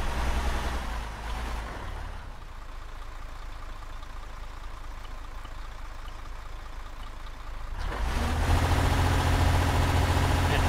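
A vehicle engine in ArmA 3 runs loud at first, drops to a low muffled idle-like drone for several seconds, then swells back up into a heavy, close rumble.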